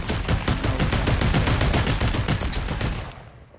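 Rapid automatic gunfire from a Population One VR match, a dense loud burst of shots running steadily for about three seconds before trailing off.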